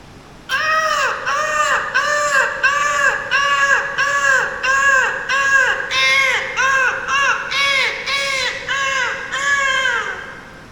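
A human voice imitates a crow at Dhootpapeshwar Temple in the rainy season, repeating loud, harsh caws about a dozen times in a steady, even rhythm.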